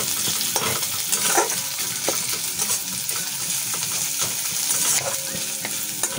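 Chopped onion frying in a pan for Sikkim-style chicken momo, a steady loud sizzle with stirring scrapes and occasional clatter throughout, no talking.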